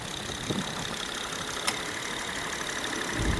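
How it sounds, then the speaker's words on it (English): A 2013 Acura TSX Tech V6 with its J35 engine idling under an open hood, a quiet, smooth, steady hum with one small tick partway through. "Runs quiet, runs exactly as it's supposed to. Nice clean motor."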